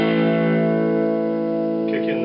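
Clean electric guitar tone through a Kalamazoo Model 2 tube amp with volume and tone around seven, a steady sustained chord ringing loud and close, alone without talk.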